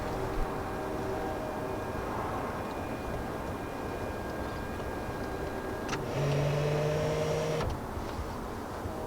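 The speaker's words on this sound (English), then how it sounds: "both have fully automated seat folding processes" Automated third-row seats folding in a 2020 BMW X7 or Mercedes GLS, a steady electric motor whir inside the cabin that shifts pitch midway, ending with a soft mechanical clunk over low background noise.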